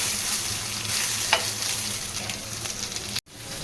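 Green chillies roast in a pan for a tomato chutney, with a steady sizzle and scraping stirs, one sharp knock midway and a brief cutoff near the end.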